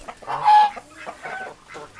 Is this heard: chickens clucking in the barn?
yes